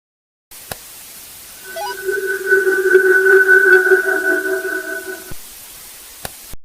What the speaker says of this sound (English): Check using the spirit box to see if they will sing into it to confirm their identity as a siren.